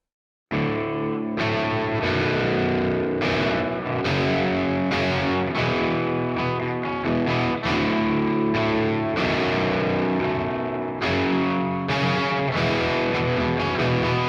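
A distorted electric guitar recreating a song's tone plays sustained chords and notes that ring and echo through a digital delay set to a 50% mix, loud and continuous with no talking.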